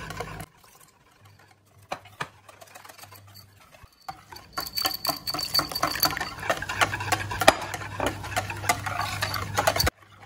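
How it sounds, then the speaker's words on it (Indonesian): Pandan batter is stirred by hand in a bowl while pandan water is poured in. The clip begins with a few quiet taps, then brings a busy run of close clattering and scraping strokes with a faint trickle underneath. "Ini kita aduk sambil tuangin air pandan ya."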